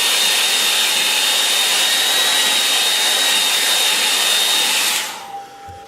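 A hair dryer blows loud and steady at close range over watercolour paper, a continuous whooshing roar that cuts off near the end, leaving a quieter fading hum.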